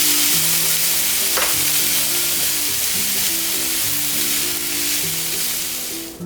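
Bean sprouts being stir-fried in a pan for a meatless dumpling filling give a steady, loud sizzle and hiss throughout, with soft background music underneath.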